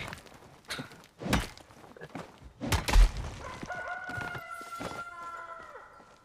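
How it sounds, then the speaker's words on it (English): A rooster crows in the Palia video game, a clear cock-a-doodle-doo rising near the end, preceded by several sharp thumps and clucking sounds. "I never knew we had the cockerel."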